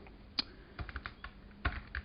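Someone types a short search on a computer keyboard, with soft, quick key taps in small uneven clusters, close and fairly quiet.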